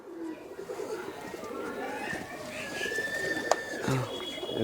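Pigeons coo softly in the background at a pigeon sale in Kolkata while people talk nearby, the low murmuring calls steady under the voices.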